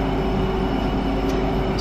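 A passenger train rumbles loudly and steadily from inside a carriage, a continuous low drone with faint rail hum throughout a short stretch.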